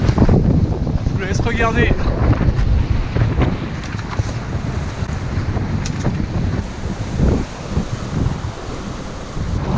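Strong, steady wind buffets the microphone aboard a Mini Transat sailboat at sea between islands, with waves and surf rushing around the hull and someone speaking French briefly over the roar.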